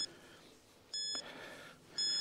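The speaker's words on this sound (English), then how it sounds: "You can hear the beep. We're scanning the area right now." Electronic energy scanner used on a ghost hunt at Mitford Castle, giving two short, clear high-pitched beeps about a second apart over a quiet background, with no speech.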